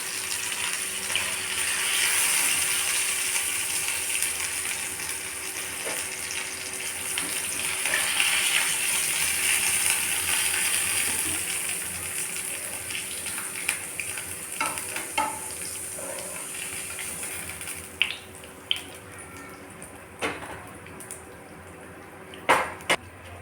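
Stuffed okra (lady finger) fries in a pan with a steady close sizzle, and later clinks and scrapes come from stirring.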